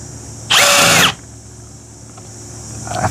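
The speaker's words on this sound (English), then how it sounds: "Power tools are great." A power drill gives one short, loud whirring burst of about half a second, close by, during replacement of a broken RV glass door, followed by low room noise.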